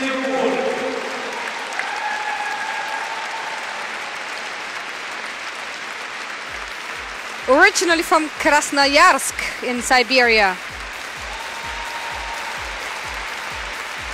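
A packed arena crowd at the 2017 Russian Nationals figure skating free skate claps steadily for the whole stretch, a dense roar of applause with a commentator talking over it and a brief louder surge of voices midway.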